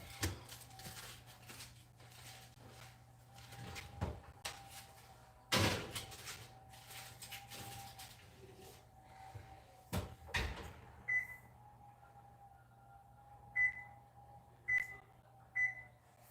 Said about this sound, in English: And now I'm gonna put that in the oven.